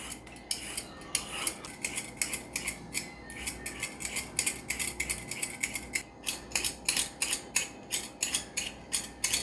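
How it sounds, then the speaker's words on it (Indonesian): Cucumber scraped with a kitchen peeling tool, quick rhythmic rasping strokes repeated steadily and close up, fairly quiet with no talking. "ini timunnya gampang banget. Kita susrukin pakai ini ya"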